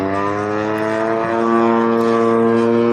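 A propeller-driven model airplane at a flying field, a loud, steady buzzing engine drone with a strong even tone that swells slightly partway through.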